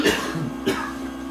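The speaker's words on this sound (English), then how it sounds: "I still have a little bit of a cough left" A man coughs twice, a short rough cough and then a second throat-clearing cough, close and fairly loud with a quiet room between them.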